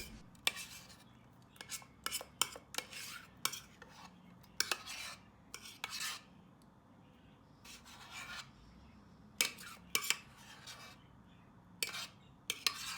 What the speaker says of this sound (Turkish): Pelteyi kaşıkla tepsiye yayıyorum.